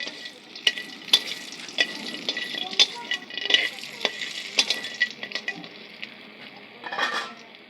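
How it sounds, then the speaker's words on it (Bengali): Crab frying in oil with garlic and chilli gives a steady close sizzle, punctuated by repeated sharp clinks and scrapes of a utensil stirring in the pan. "তেল দিয়ে কাঁকড়াটা একটু ভেজে নেব"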